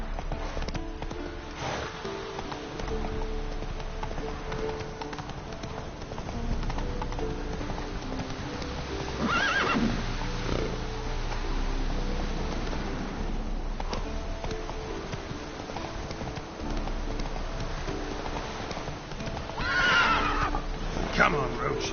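Roach, the horse from The Witcher video game, whinnies loudly twice among snorts and soft trotting hoofbeats. A low ambient backdrop runs throughout, and a voice is present.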